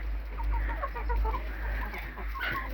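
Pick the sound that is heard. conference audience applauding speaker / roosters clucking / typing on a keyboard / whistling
roosters clucking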